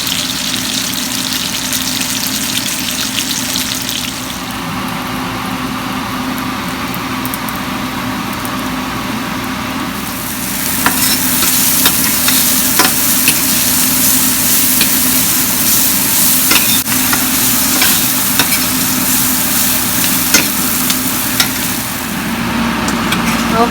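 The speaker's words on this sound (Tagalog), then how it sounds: "So this is pampano. Fry ko lang siya pero yan minarinate ko kanina sa asin." Salt-marinated pompano fish fries in a pan in a home kitchen. A moderate sizzle jumps to a louder, crackling spatter about halfway through and keeps popping steadily.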